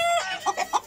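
Roosters cluck in short, quick bursts, three or four close, clear clucks in under a second with nothing else heard.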